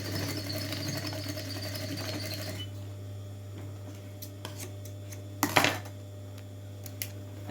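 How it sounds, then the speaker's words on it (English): A sewing machine stitches fabric for a handbag, a steady close mechanical whir for a few seconds that then stops, followed by faint clicks and a short rustle. "Now sew through that marking."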